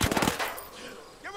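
Gunfire in Ghost Recon Breakpoint near an outcast bomb factory: a quick cluster of loud shots at the start, then fading into a ringing tail and faint background noise.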